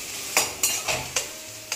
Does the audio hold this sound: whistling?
no